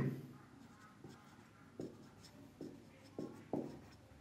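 Pen or chalk strokes writing out a maths working during a class 7 lesson, a handful of short scratchy taps and strokes spaced irregularly over quiet room tone.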